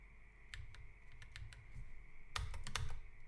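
Keys clack on a computer keyboard in quick irregular bursts of clicks, quiet and close, with a denser flurry toward the end and no voices.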